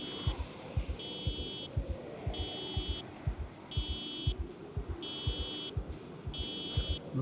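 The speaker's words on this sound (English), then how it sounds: "that car alarm went off exactly where I do not want the zombies to be" A car alarm blares in the Project Zomboid video game, a repeating electronic beeping pattern in steady pulses, with rhythmic low thumps underneath.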